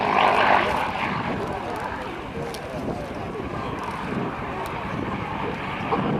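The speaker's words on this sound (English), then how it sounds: "And Dale flying this airplane once again" A four-blade propeller airplane flies at the Dayton airshow, its engine drone steady and fairly loud overhead, with a public-address voice talking over it.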